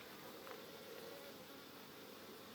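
Gentle honey bees hum steadily around an open hive during honey harvesting, a soft, continuous close-up drone with no voices.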